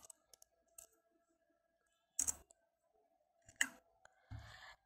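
Computer keyboard keys are tapped while entering a command in AutoCAD 2022, a few quiet scattered clicks followed by two louder bursts of keystrokes and a final short clatter, close and otherwise quiet.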